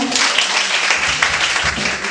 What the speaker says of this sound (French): Ça mérite encore une fois une acclamation